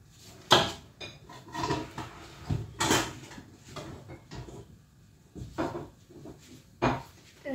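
Wok and pans clank and scrape in a home kitchen while a fried chicken and tempeh meal is prepared, with several sharp metallic knocks and clatters spread irregularly through the clip, close and fairly loud.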